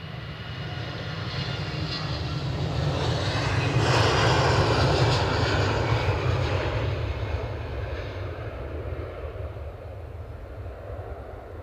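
Aircraft engine roar at Edinburgh Airport, a steady loud rumble that swells to a peak around the middle as a plane passes and then slowly fades, with no voices.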